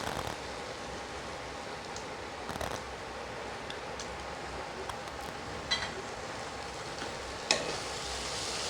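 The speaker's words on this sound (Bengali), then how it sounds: "এবার ভালো করে কষাবো" Chili powder, coriander and cumin powder sizzle and are stirred in hot oil for chana masala made with mutton fat, a soft continuous frying hiss with occasional scraping stirs.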